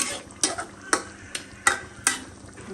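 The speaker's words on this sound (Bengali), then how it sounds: "আমার ছেলে আলু অনেক বেশি পছন্দ করে আমিও আলুটা একটু বেশি পছন্দ করি এই জন্য এখন এটা কিছু সময় ভালো করে কষে নেব" Potato curry sautés in a pan, a spatula striking and scraping the pan in four or five evenly spaced strokes over a faint sizzle, close up with no talking.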